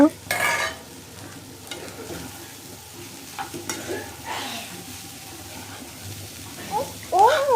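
Leftover pulao rice is stir-fried in a sizzling pan. Repeated scraping strokes of a spatula and bursts of frying noise come through, while a person talks over parts of it.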